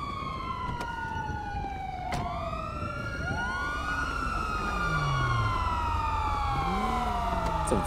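A police car siren in a video game wails loud and close, sweeping up and down in repeated rising and falling tones that swell for the full length, with no one talking.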